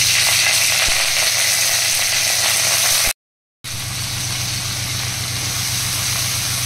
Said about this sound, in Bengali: এবার ফুলকপিগুলো ভালো করে লাল লাল করে ভেজে নেব।